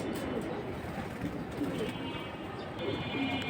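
Silver, light-coloured pigeons coo softly in a low, repeated murmur against a steady background hum, with faint voices nearby.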